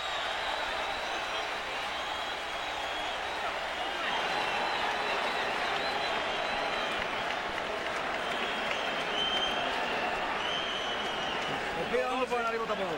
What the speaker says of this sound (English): the crowd is on its feet again